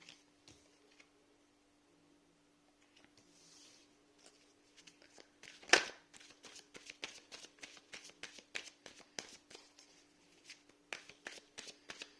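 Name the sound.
shuffling cards for a reading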